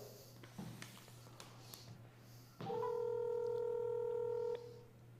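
Several short telephone keypad tones beep as a number is dialed, then a loud steady tone holds for about two seconds before cutting off, over a faint background hum.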